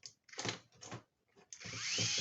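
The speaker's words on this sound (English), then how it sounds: "here I use electric screwdriver to make it faster" Electric screwdriver driving screws into a swinging stand during assembly, two short whirring bursts followed by a longer, steady high-pitched drive, close and fairly quiet.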